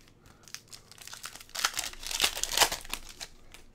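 A Pokémon Twilight Masquerade booster pack wrapper crinkles and tears open, a run of close, crisp foil rustles building to louder rips in the middle before trailing off.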